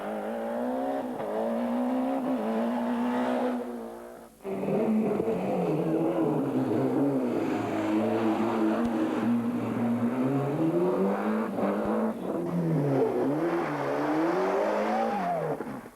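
A Ford rally car on the 1994 Monte Carlo Rally spins round in Saint-Jean-en-Royan, its engine loud and close with rising and falling revs. The engine drops away sharply once, then roars back and holds a strained, wavering note.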